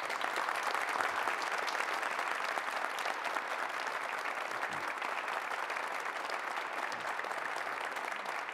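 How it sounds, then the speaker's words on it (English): Sustained, dense applause from an audience at an organ dedication concert in a church, steady and even for the whole stretch with no voices standing out. "Please can we give him a round of applause?"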